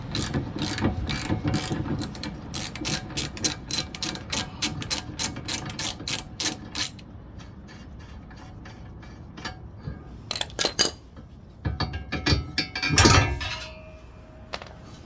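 A ratchet works loose the rear step on an AWD Sprinter van, giving rapid, steady clicking bursts up close for about seven seconds, then a few sparser clicks and clinks.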